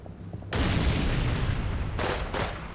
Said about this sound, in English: Ah, yes, tank cook-off.